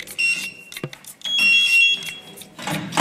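The planted bomb from the video game Counter-Strike beeps as a few sharp electronic tones, some sustained, amid clattering background noise.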